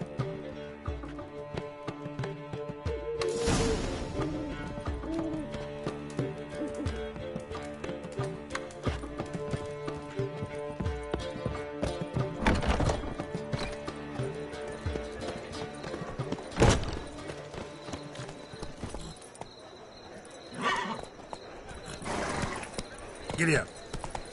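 Hooves clip-clop in a steady rhythm as a horse is ridden in The Witcher 3, with bursts of louder clatter and game ambience, and characters speaking over the hoofbeats.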